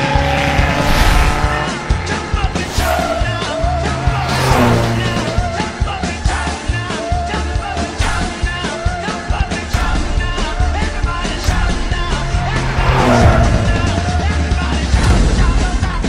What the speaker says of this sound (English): There's that swinging style of Jim Clark. Driving with tires on fire